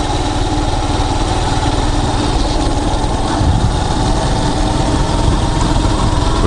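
A motorcycle engine idles steadily and loudly close by on an early morning ride, its low rumble continuous and unbroken throughout with no voices.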